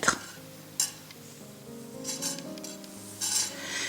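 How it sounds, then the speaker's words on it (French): Aluminium and copper jewelry wire rubbed through a cloth to straighten it, a few short scraping rasps and swishes close by with quiet pauses in between. "N'hésitez pas à chauffer vos fils avec un chiffon de façon à les rendre bien droits."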